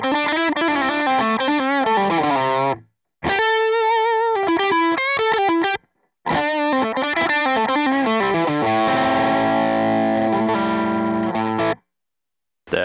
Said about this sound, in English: I am playing a Squier Jazzmaster, and this is what it sounds like on the bridge pickup.